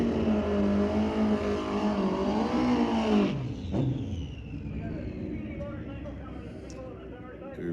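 Drag racing motorcycle launching and screaming down the strip at a Friday night street legal drags event at Mission Raceway Park, a loud rising engine whine that cuts off and fades into the distance, with an announcer talking over it.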